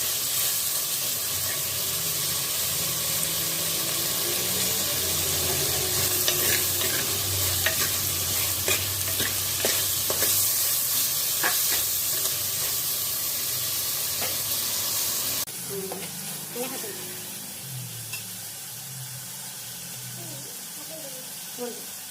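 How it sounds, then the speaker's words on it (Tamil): Onions and tomatoes sauté in a pan for crab kulambu, a steady loud sizzle and frying hiss with scattered crackles and stirring scrapes, easing slightly later on; no speech over it. "இந்த வெங்காயம் நல்லா வதங்கிடுச்சு."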